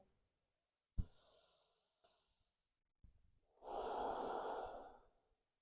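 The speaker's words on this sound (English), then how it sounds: "We'll take one more deep breath together here." Soft, close breathing during a hip-focused yoga session: a few faint breath sounds and sniffs, then one long, deep exhale near the end, with no talking.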